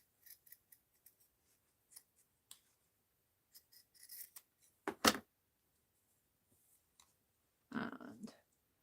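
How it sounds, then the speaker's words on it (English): Scissors snip an arm shape out of paper in a quiet room. There are scattered short crisp cuts, one louder sharp snip in the middle, and a brief rustle of paper near the end. "I'll hold on to it and just kind of cut an arm shape in here."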